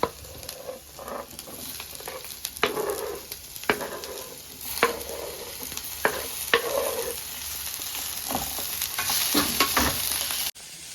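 Broccoli sautés in a hot pan with a steady sizzle while a spatula stirs and taps against the pan in irregular strokes, the frying close and constant until it cuts off abruptly near the end.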